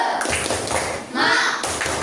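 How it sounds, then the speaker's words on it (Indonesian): A class of schoolchildren performing a rhythmic clapping chant in a classroom, bursts of loud claps and taps in patterned groups, close and energetic, with voices mixed in. "sekarang kita coba dulu tepuk semangat dulu"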